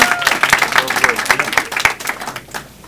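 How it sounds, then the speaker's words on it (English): Comedy club crowd at an open mic show claps in a brief burst of dense, uneven applause that fades toward the end, with a voice and cheers mixed into the clapping. "Round of applause for Ann Arbor"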